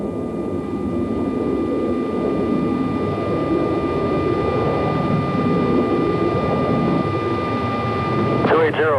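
F-14 and F-16 fighter jets in a flight combat video game: a continuous, loud jet-engine roar with a steady whine, and a brief voice near the end.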